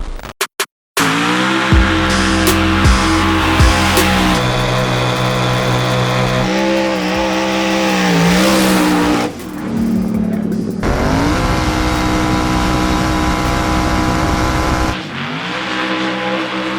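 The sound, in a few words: Hoonicorn all-wheel-drive race car accelerating, tires overpowered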